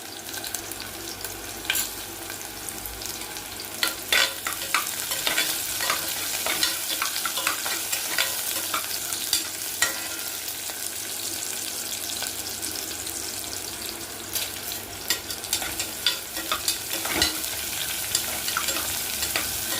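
Chopped black pepper, ginger, garlic and three dried red chillies sautéed in a pan, a loud continuous sizzle with frequent sharp clinks and scrapes of stirring throughout.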